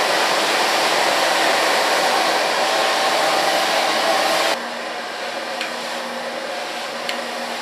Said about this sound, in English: For blow drying